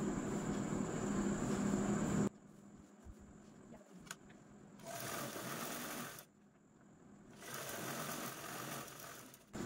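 A sewing machine stitches a zipper onto fabric in close, steady whirring runs, stopping and starting several times with quiet handling gaps between bursts.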